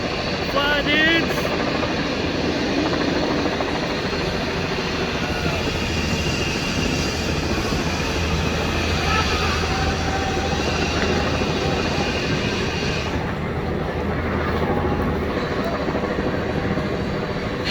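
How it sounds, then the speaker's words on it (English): A helicopter circling overhead near a Six Flags amusement park, a loud continuous rotor and engine drone that stays steady throughout, with people talking underneath. "That helicopter is still up there."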